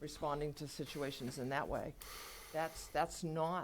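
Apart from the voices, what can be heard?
None of the usual background noises is heard.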